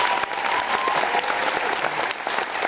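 Audience applause from a crowd, a steady dense patter of many hands clapping throughout at fairly loud level, with no talking over it.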